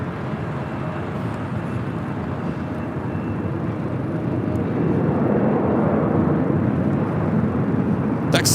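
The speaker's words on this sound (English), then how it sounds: "Next takeoff, American Airlines Flight 1622. It's an A321 Neo." An American Airlines Airbus A321neo taking off at LAX, a broad steady jet roar heard from a distance that swells slightly louder in the second half, with no talking.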